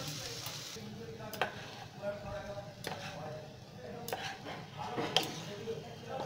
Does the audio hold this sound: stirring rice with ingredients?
yes